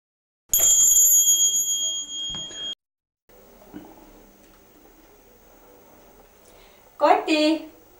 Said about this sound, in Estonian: Kati, ukse kell.